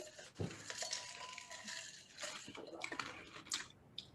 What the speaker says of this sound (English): I'm gonna drink some water